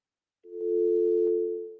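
A steady electronic telephone tone sounds on a radio broadcast after a caller's line drops, one sustained mid-pitched beep lasting over a second, loud and alone with no voices over it.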